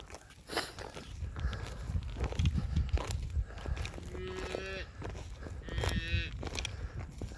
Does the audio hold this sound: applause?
no